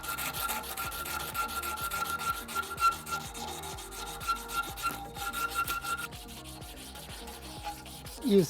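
Close, rhythmic rubbing of a Scotch-Brite pad over a metal torch holder for a satin finish, repeated back-and-forth strokes that soften and thin out toward the end.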